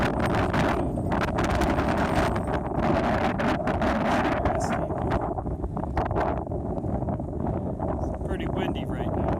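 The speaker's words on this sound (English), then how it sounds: "It's pretty windy right now." Strong gusty wind roars across a mountain trail toward Little Baldy near Provo, buffeting the microphone loudly and steadily throughout, with indistinct voices underneath.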